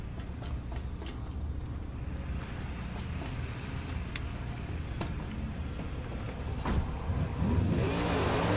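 A car engine drones steadily in the Mad Max video game, with scattered ticking over the rumble and a louder rev building near the end.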